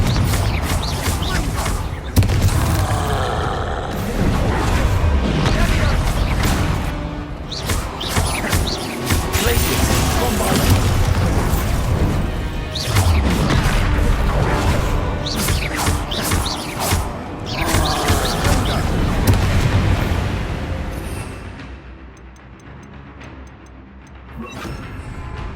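Confringo fire spell blasts in Hogwarts Legacy burst repeatedly as loud crashing explosions amid continuous combat noise, with a man calling out spell names over the din.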